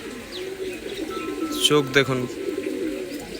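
Andhra imported Pilanka pigeon chicks coo once, briefly and close by, over a soft hum while someone speaks.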